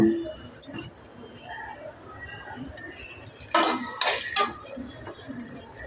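Dry fruits for laddu are stirred and tossed in a metal pan, with a quiet scrape and clink of utensil on pan followed by a louder run of clattering around the middle; a voice talks throughout.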